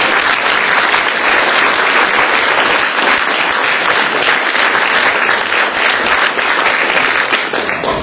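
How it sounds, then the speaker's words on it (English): Sustained, loud audience applause fills the hall after a talk at a book launch on peace and development, dense clapping holding steady from start to end with no voices. "Please give a round of applause to Henning."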